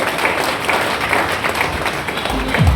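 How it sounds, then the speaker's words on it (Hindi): Audience applause at a seminar in Dausa, a steady wash of clapping holding at an even level for the whole stretch, with a low rumble rising near the end. "जोरदार ताली।"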